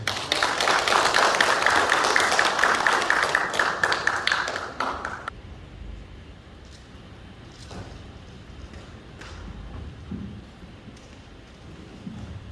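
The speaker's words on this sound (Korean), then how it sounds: "박수로 맞이해 주십시오." A crowd applauds candidate Lee Kwang-jae to the podium at a Hongcheon forum for Gangwon governor candidates. Loud, dense clapping fills the first five seconds, then breaks off into a quiet room with faint scattered noises.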